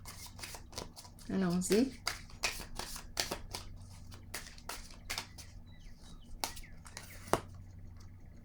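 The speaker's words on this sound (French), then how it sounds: "Je vais maintenant piger une carte animale, des petites cartes qui me font sourire." Small animal picture cards being shuffled and drawn by hand, soft papery riffles and flicks close up, with a person talking over them.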